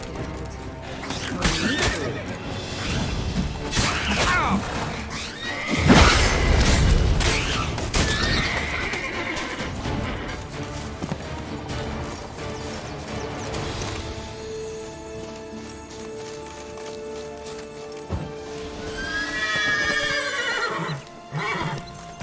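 Roach, the horse in The Witcher 3, lets out loud whinnies and neighs over galloping clip-clop hooves, with game effects and occasional voices mixed in and a second whinny near the end.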